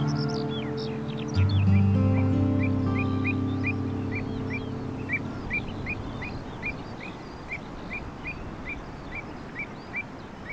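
Avocets, the slender wading birds with upturned bills, give a steady series of short, sharp calls at even intervals over a low, constant drone, moderately loud and without any voices.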